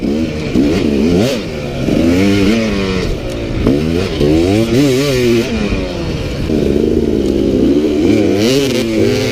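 Dirt bikes race in a tandem event at a nighttime competition, engines revving and buzzing loudly and continuously up close, pitch rising and falling as the riders accelerate.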